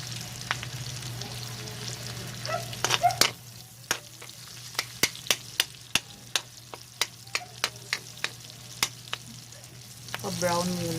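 Meat browning for Kapampangan igado or kilayin sizzles in a pan under a steady hiss. Sharp spatters and pops come irregularly, then form a quick series of crackles, and a louder burst of frying sounds near the end.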